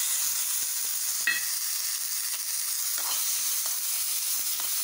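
Steady sizzling of chopped coconut sautéing in a pan, with occasional clinks and scraping stirs over the continuous crackle.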